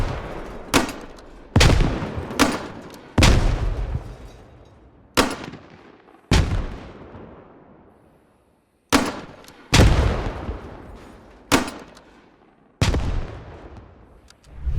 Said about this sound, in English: we have this grenade launcher that has smoke grenades and high explosives